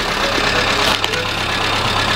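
A carbureted Nissan Pao car engine idles nearby as a loud, steady, even rumble with a faint clatter running through it.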